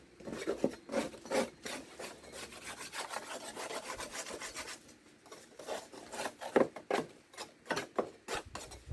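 Dust and caked muck are scraped and rubbed off a Mountfield SP536 lawn mower, a run of close, raspy scratching strokes in irregular bursts with a brief lull midway.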